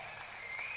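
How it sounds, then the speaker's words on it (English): Short burst of applause from a small group of people in a radio studio during a Ghanaian call-in show, steady and moderately close, with no talking over it. "Clap for yourself."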